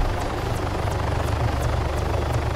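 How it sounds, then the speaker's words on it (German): A helicopter in the video game Arma 3 drones loudly and steadily throughout, its rotor chop pulsing evenly over a heavy engine rumble, with no one talking. "Habt ihr mal den Heli gescannt,"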